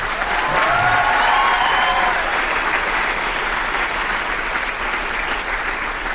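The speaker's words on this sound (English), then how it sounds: "Give him one more round of applause, please." A school audience gives sustained, loud applause during a student writing event, a broad wash of many clapping hands with faint crowd voices and brief cheers near the start, fading slightly toward the end.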